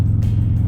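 A Harley-Davidson Road Glide Special with aftermarket exhaust idles with a deep, steady, throbbing rumble, close and loud, in a brief burst with no voices.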